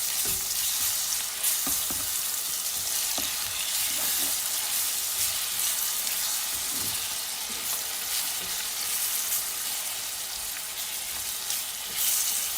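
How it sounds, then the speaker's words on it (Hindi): Ginger garlic paste frying with onions in a pan for a Pakistani-style mixed vegetable dish, a steady close sizzle with occasional stirring scrapes and clicks and no talk. "ये मैं इसके अंदर अदरक लहसुन का पेस्ट डालूँगी, ताकि हमारी अदरक लहसुन भी थोड़ी सी फ्राई हो जाए।"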